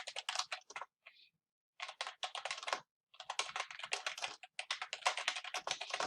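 Fingers type a search on a computer keyboard in quick bursts of close, crisp key clicks, broken by two short pauses and a brief faint tap, with no talking.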